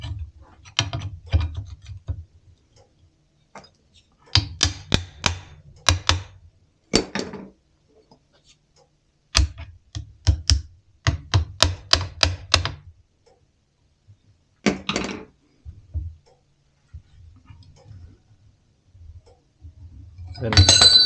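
Metal is bent to a 90-degree angle while making stock tank matting, giving bursts of rattling, ratcheting clicks and metallic clinks separated by quiet pauses, close up, ending in a louder clatter.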